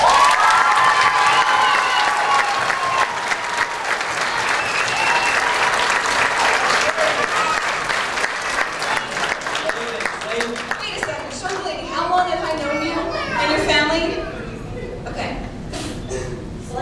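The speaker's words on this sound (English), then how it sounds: "please give a big round of applause to the people that made this happen, our co-directors Noelle Ott and Andrea Slav" Audience at a dance performance breaking into loud applause with cheering and whoops, clapping dense at first and then thinning out, with voices and shouts mixed in toward the end.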